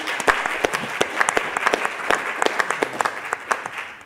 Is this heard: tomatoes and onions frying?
no